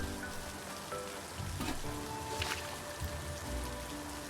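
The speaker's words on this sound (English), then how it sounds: "And it's a rainy day." Rain falls on a rainy day in the farming video game Littlewood, a soft steady patter under faint game music tones, fairly quiet and without talk.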